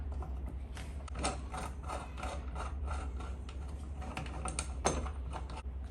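Metal bolts being tightened on the steel-frame rear shock of a junior scooter with 10-inch wheels, a steady close mechanical whirr with ratcheting clicks running throughout.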